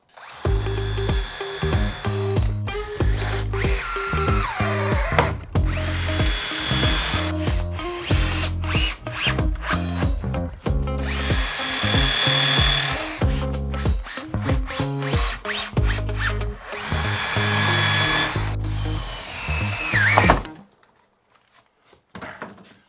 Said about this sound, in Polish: Wkrętarka, wiertarka i odpowiednie wkręty. Nawiercamy sobie na razie skrajne.